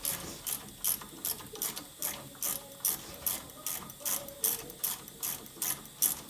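Rapid ratcheting clicks from a hand tool working on a 2005 Volkswagen Jetta TDI front brake caliper bolts, a steady train of short bursts, close and fairly quiet, with no talking.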